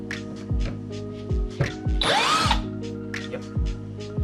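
A power drill with a T25 Torx bit backs retaining screws out of a plastic interior panel on a Range Rover Velar or Evoque, giving several short whining motor bursts with rising pitch and one longer, brighter spin.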